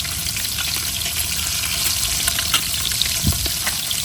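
Hilsa fish and pumpkin frying in oil in a home kitchen on a remote river island, with a loud, constant close sizzle and occasional soft knocks of a spatula stirring the pan.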